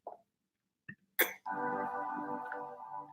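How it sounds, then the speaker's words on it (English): A person clears their throat in one sharp, raspy burst after a couple of small vocal sounds, and a sustained tonal hum of music follows. "I'm going to clear my throat, sorry."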